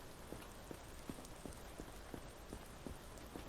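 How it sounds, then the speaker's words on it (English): Steady rain falls in a zombie apocalypse video game, a continuous broadband hiss with regular soft thumping taps running evenly through it and no voices. "Yeah, I know it's raining."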